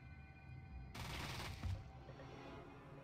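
A gunfire burst from combat in the Fallout 1 video game, one short, loud volley that rises abruptly and then trails off over a quiet background, with no voices.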